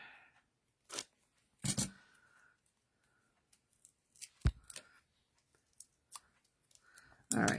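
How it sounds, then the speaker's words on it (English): Scissors snip through a banner label, a few sharp separate cuts and clicks spread out with quiet pauses between, close and fairly soft. "So we'll just cut that in half."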